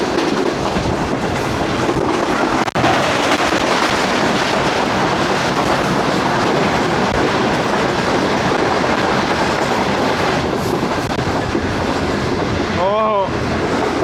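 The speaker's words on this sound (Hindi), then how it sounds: "ये है 28 डाउन शालीमार एक्सप्रेस" The 28 Down Shalimar Express rushes past at Reti railway station on Pakistan's ML1 line, a loud, steady roar of wheels and carriages lasting the whole stretch, with a brief horn blast near the end.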